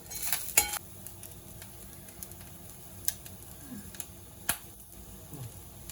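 Spices and onion sautéing in a pan for South Indian coconut rice, a soft steady sizzle with a few sharp spoon clinks and scrapes against the pan at intervals.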